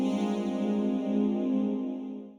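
Swarm synthesizer playing a sustained harmonic chord through its big stereo reverb, with rich overtones and a long wash of decay that trails off near the end; no voices.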